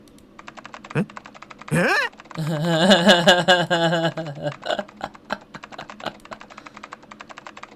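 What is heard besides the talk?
fast keyboard typing sound effect from video game Zero Escape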